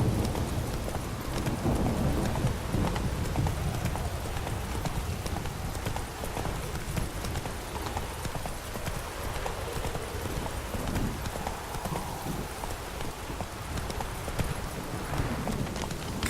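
Horse hooves galloping in The Witcher 3: Hearts of Stone, a steady, loud clip-clop rhythm running throughout, close and continuous with no talk over it.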